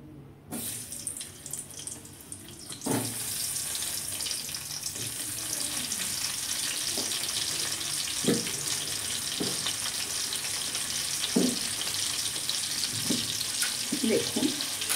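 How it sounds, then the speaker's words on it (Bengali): Cauliflower pieces coated in salt, turmeric and Kashmiri chilli powder hiss and sizzle in a pan, the steady frying noise starting abruptly after a quiet moment and continuing with occasional small knocks. "আগে ফুলকপিটা ভেজে নিই।"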